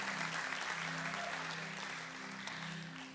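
Church congregation clapping together in steady, sustained applause that fills the room, holding loud throughout with a faint hum of organ or keyboard notes underneath.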